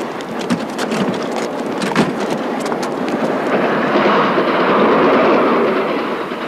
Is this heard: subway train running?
yes